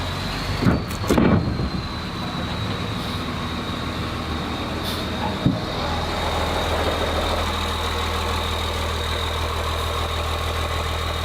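A vehicle engine idles steadily while backing up in a work yard, a loud, constant mid-pitched drone with a couple of brief clanks and knocks near the start and one more partway through.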